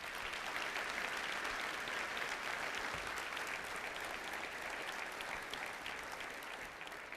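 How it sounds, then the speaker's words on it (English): Sustained audience applause fills a hall at a county government address, a dense, steady wash of many hands clapping at moderate level with no voices over it. "So please give my colleagues a round of applause."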